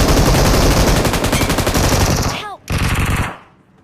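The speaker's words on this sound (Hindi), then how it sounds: "पीछे से बंदूक फुट आए" Rapid automatic gunfire from PUBG Mobile match play, loud and dense bursts filling the clip, briefly cutting out near the end before resuming and then fading.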